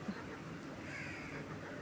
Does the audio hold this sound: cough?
no